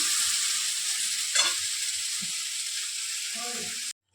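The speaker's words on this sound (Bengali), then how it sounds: "এখানে তেলের মধ্যে পাঁচ ফোড়ন দিয়ে দিয়েছি" Bengali five-spice seeds (panch phoron) sizzling in hot oil left from frying fish, a bright continuous hiss with brief clatters and a faint voice, ending abruptly.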